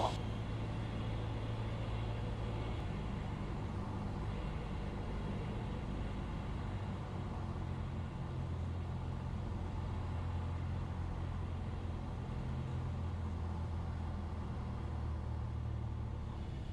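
A single-engine Cessna Skyhawk training aircraft drones steadily in the cockpit as power is added, a constant loud hum with low tonal rumble and no talk.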